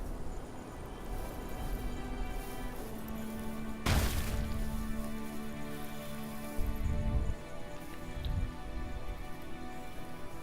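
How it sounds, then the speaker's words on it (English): Steady rain in the fantasy strategy game Spellforce 3, a dense hiss of falling drops with a few sharper cracks and thuds mixed in, continuous and moderately loud throughout. "Bloody rain."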